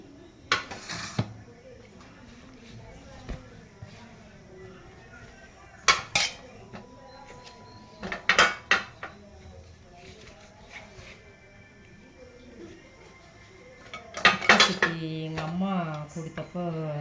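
Steel idli plate set being handled while batter is poured in, with clustered metallic clinks and clatters of the plates and ladle at a few points, under a voice talking throughout.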